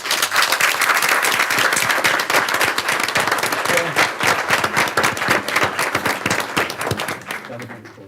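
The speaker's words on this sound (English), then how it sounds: "if we could all give them a huge round of applause" An audience at a village board meeting applauds police, fire and public responders with a loud, sustained round of clapping that runs for several seconds before tapering off at the end.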